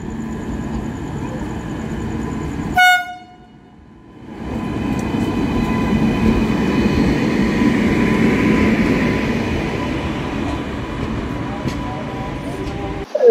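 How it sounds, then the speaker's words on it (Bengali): The Kolkata–Radhikapur Express, heard from inside a sleeper-class coach, gives a sharp clack, a brief lull, then a steady loud rolling rumble and hum of the moving train, with a voice talking over it. "3145 কলকাতা রাধিকাপুর এক্সপ্রেস।"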